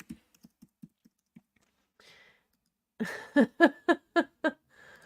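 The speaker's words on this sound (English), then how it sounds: "I'm just going to keep typing Mohawk now until it looks normal." Someone types on a computer keyboard, first a string of light, spaced single key taps, then a quick burst of louder, closer clacks in a rapid rhythm, with a brief breathy sound between.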